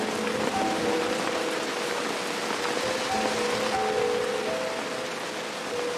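Steady rain falls on a park in a drama scene, an even, continuous hiss of drops on surfaces with a faint tonal hum underneath and no voices.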